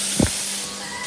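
Chicken frying in hot oil, a steady loud sizzle and hiss that fills the short stretch, with a brief spatter or pop near the start.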